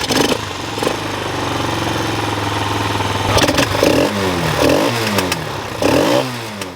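A cheap four-wheeler quad bike bought off Amazon idles and then revs in repeated sharp bursts, its small engine rising and falling in pitch close by with no talk over it.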